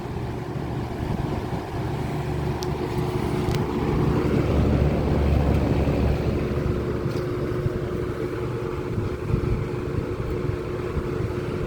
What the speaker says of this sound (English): starting with high. Here we go. And like any 2nd gen Lakewood, it's quiet and it moves a lot of air.